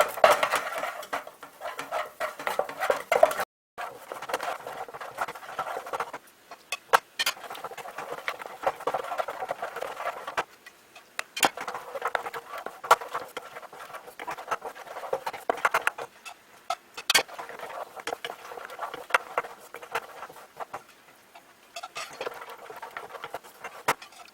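Fish stock poured into a butter and flour roux and stirred in a pot for fish chowder soup, giving a long run of close, soft scraping and light tapping of a utensil against the pan in uneven rhythm.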